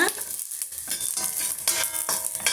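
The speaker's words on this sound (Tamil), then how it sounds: "அந்த அளவுக்கு நம்ம வெள்ளைப்பூண்டை வதக்கி விட்டுக்கணும்" Peeled garlic sautés in a pan, giving a soft sizzle broken by scraping stirs of a utensil against the pan, close by and in uneven bursts.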